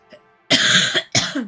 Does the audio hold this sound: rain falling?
no